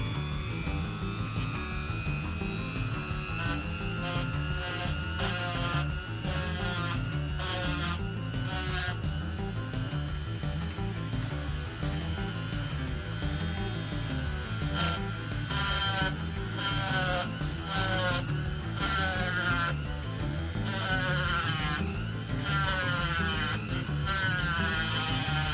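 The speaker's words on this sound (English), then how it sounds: "The axles are crimped onto the base, so I'm having to dremel the bits off." A Dremel rotary tool grinds crimped axles off the base of a Matchbox Ford Transit dropside model, a continuous close whine broken by repeated short rasping bursts as the bit bites into metal.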